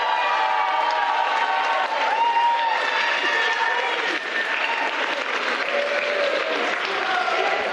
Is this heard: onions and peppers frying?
no